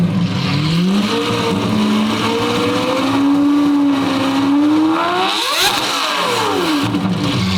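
A loud sports car engine roars and revs close by, pitch climbing and falling, with a sharp throttle blip and a pass near the end.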